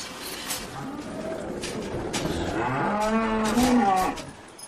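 Cattle moo inside a barn on a traditional farm in Germany near the French border, with a long, rising, drawn-out call close by that swells and then fades.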